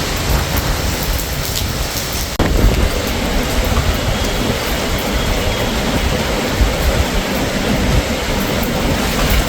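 Heavy, steady rain pours throughout a storm in Alanya, with a low rumble of thunder beneath it and a sharp crack about a third of the way in, then continuous dense downpour.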